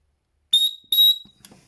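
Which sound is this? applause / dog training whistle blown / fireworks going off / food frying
dog training whistle blown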